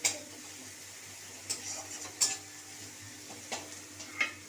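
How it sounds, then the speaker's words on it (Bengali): Turmeric, ginger, garlic and onion stirred together as they fry in a pan, with soft sizzling and a few distinct spoon scrapes and clinks against the metal. "হলুদটা দিয়ে আদা রসুন পেঁয়াজ সব একসাথে ভালো করে নাড়াবো।"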